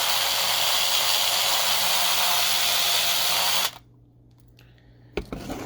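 A power drill enlarges a hole in a die-cast Matchbox toy car, whirring with a steady loud hiss for several seconds before cutting off, followed by brief clicks and handling.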